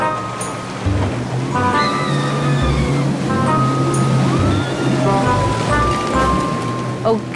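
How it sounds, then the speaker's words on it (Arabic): Sea waves wash onto a beach in a steady surf roar, with rushing water close by while people talk over it. "إحنا قاعدين على البحر"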